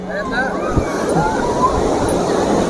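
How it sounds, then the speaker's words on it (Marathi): Sea waves washing onto Diveagar beach, a steady broad surf wash with the busy chatter and voices of beachgoers over it, people talking throughout. "असा हा दिव्यागरचा समुद्रकिनारा"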